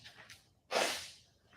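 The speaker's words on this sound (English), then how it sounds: "And I had to blow my nose." A person blows their nose into a tissue a short distance away, one soft breathy puff followed by a single forceful honking blast that trails off.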